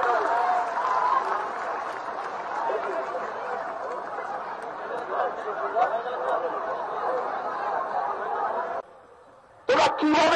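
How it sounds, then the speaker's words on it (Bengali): A large crowd at a rally claps and cheers for several seconds in a sustained, dense wash of applause with chatter mixed in, then cuts off abruptly before a brief burst of noise returns. "সকলে একটা জয় করতালি দিয়ে অভিনন্দন জানান"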